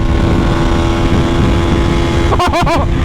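A GPX Demon GR250R 250cc motorcycle engine running in fourth gear while riding, a loud steady drone with heavy wind rush, with a brief rise and fall in revs near the end.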